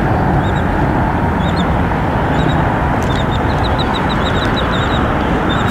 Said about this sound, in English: I think the birds are trying to eat my chicken.